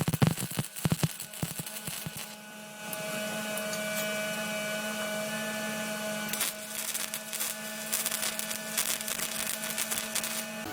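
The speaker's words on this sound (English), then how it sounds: "I'm going to weld them on the top" Tack welds join a stack of four steel bars for a blacksmith's twisted candy cane ornament: short crackling bursts at first, then long sustained buzzing, crackling arcs close by.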